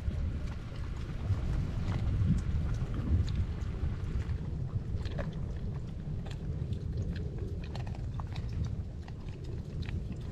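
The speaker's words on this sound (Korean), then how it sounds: "지금 밖에 바람이" Strong wind buffets a winter backpacking campsite, a steady loud roar with rumbling gusts dominating throughout, no voices present.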